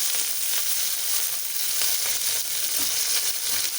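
Onions sautéing in oil and ghee for tomato bath make a continuous, close sizzle with faint crackles and occasional stirring scrapes, with no talk.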